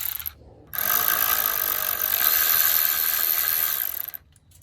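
An older non-fuel power ratchet spins a nut on a Duramax truck while someone works on its wiring. It makes a loud, steady, grinding whir for about three and a half seconds, then cuts off, with no talking.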